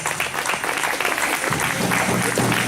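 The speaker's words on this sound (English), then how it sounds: "give Sandra Bearchum and her family a big round of applause" A crowd at the Little Shell Tribe powwow in Great Falls claps steadily throughout, a dense wash of applause that swells slightly near the end.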